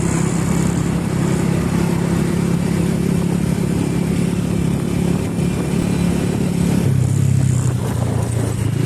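A motorcycle left with its kickstand down runs steadily at close range with a constant throaty rumble, its tone shifting briefly near the end as it revs slightly.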